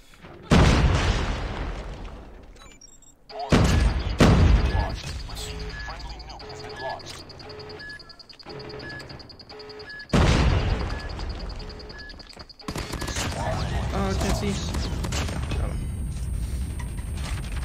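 A nuke detonation in a Call of Duty match lands as heavy booming blasts with a long roaring rumble, repeated swells of explosion noise layered over gunfire and game sounds, while a player talks throughout.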